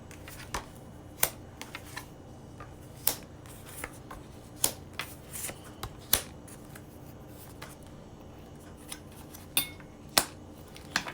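A deck of Butterfly Oracle cards is handled and shuffled quietly nearby, with soft rustling broken by scattered sharp flicks and snaps, and no talking.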